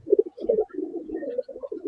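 Domestic colored pigeons cooing in a loft, soft throaty coos repeating in quick succession, close by and steady, with no speech over them.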